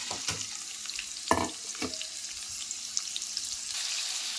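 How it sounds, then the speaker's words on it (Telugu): Six finely chopped onions dropped into heated oil in a pan sizzle steadily up close, with a few sharp spatters and stirring scrapes over a continuous frying hiss. "ఇందులో కొంచెం ఆయిల్ యాడ్ చేశాను ఆయిల్ హీట్ అయ్యాక నేను ఇక్కడ సిక్స్ ఆనియన్స్ తీసుకున్నాను"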